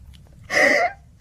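A single sharp, breathy sneeze bursts out alone after a quiet moment, loud and close, lasting about half a second before fading.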